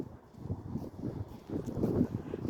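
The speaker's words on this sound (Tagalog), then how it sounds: "Malakas ng hangin." Gusty wind buffets the microphone with a low, rumbling roar that swells and eases, growing stronger toward the end.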